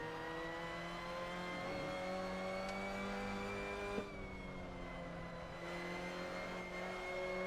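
Race car driven by a professional driver on a track, its engine holding a steady high whine with smooth pitch changes as it accelerates under power, continuous and close, as if heard from onboard.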